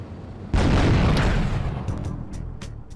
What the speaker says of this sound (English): The game instructs you to flee the area in order to trigger the vehicle's explosion